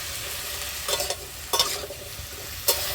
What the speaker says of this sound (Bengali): আর আলু এগুলো সব আমি একসাথে ভেজে নেব সামান্য পরিমাণে লবণ সামান্য পরিমাণে হলুদ